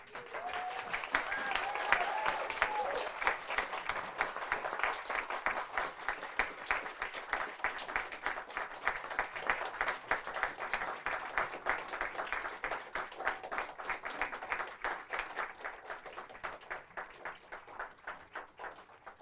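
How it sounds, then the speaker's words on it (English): Sustained applause from a seated-then-standing audience at a Royal College of Surgeons diplomate ceremony, dense steady clapping filling the hall for the whole stretch, peaking early and holding loud with a faint voice or two underneath. "Give them a round of applause."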